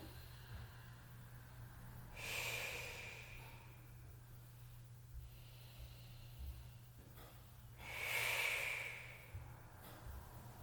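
Two slow, deep breaths during a yoga forward fold, each a soft, airy exhale a few seconds apart, faint and close against a quiet background.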